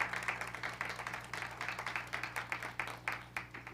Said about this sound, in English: we're applauding them